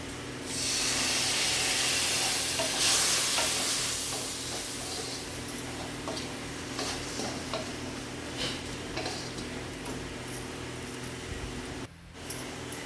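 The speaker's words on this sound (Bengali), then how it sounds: "হালকা একটু জল দিয়ে কষাবো, মানে পেঁয়াজটা একটু খুব সামান্য তেল মানে জল দিয়ে কষাবো।" Onions sautéing in a pan with a little water and very little oil, a steady hissing sizzle with a louder burst early on and a run of light ticks and stirring scrapes.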